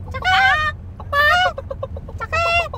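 A person's voice imitates a hen's cackling call after laying an egg, three loud, close bursts of rhythmic clucking separated by short pauses, with no other talk.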